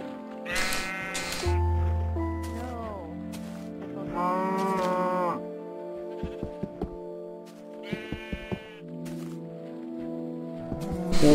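Sheep in the Minecraft video game bleating in several separate bursts among cow moos and clicking game sounds, fairly clear and isolated against quiet background music.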